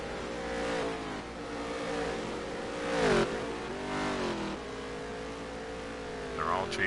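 Race car engines from the NASCAR Heat 3 video game roar down a drag strip section of a dirt course, revving steadily with rising and falling pitch as the cars accelerate and slow for a turn, loud and continuous throughout.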